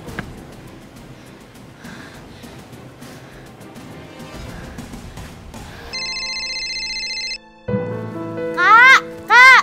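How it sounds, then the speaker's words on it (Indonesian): A mobile phone plays a loud electronic ringtone in a steady tone indoors, then pauses and starts again with a warbling melody, following earlier scuffling and faint noise. "Nih, HP-nya bunyi terus nih."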